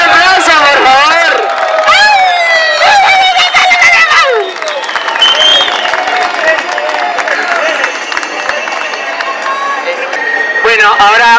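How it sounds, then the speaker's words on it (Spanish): A crowd cheers and applauds for a highline athlete from Quebec, Canada, at an international urban highline competition, a loud sustained roar of clapping, whistles and shouts that fills the whole stretch with voices rising through the din. "¡Un aplauso, por favor!"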